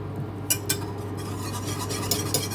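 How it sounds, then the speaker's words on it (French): A utensil stirs flour into béchamel sauce in a pot, with scraping swirls and a few sharp clinks against the side, close and fairly quiet over a low steady hum. "Et là, on vient bien mélanger."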